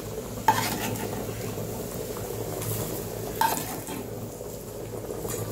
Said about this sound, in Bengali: তো আমি এইগুলোকে এবার তুলে নেবো কড়া থেকে।